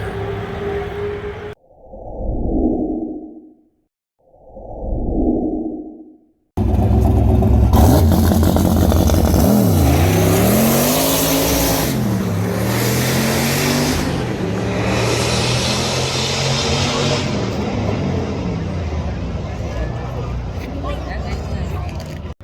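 Toyota Supra race cars accelerate hard at a track testing day, a loud sustained engine roar with rising and falling revs as they pass close by, after a brief stretch of talk at the start.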